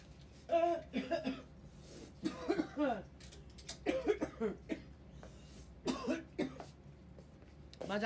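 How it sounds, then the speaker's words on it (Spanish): A person coughs repeatedly close to the microphone during a live stream at home: several harsh, separate bursts at irregular intervals with quiet gaps between them. "Vaya con la tos."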